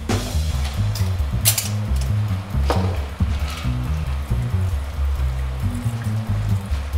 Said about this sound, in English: Strain it right into our rocks glass here.